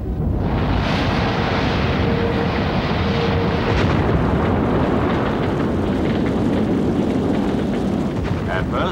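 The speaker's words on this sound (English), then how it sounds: "an undetected fault in the first stage of the rocket turned the launching into calamity" A Vanguard rocket launch goes wrong after a first-stage fault, filling the air with a continuous, loud, rumbling roar that stays heavy and unbroken from start to finish.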